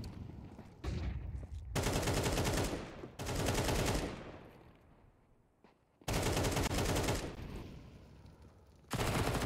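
Rifle fire in a Counter-Strike esports match, with an M4 in use: long loud sustained bursts of automatic gunfire alternating with quieter stretches, repeated several times.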